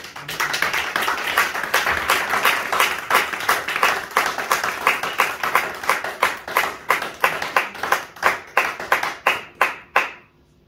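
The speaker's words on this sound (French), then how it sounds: "Est-ce qu'on peut acclamer le Seigneur?" A church congregation claps and applauds in praise, a dense burst of rhythmic hand claps that gradually thins into slower, more separated claps before stopping.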